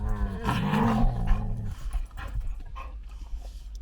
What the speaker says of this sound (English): The dogs are killing each other.